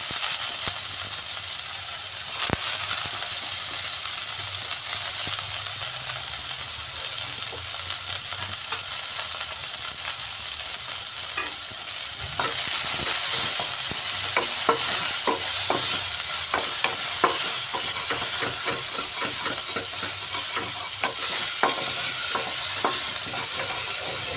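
Chopped onions sizzle and crackle steadily in hot mustard oil, with occasional stirring scrapes and a sharp clink near the start.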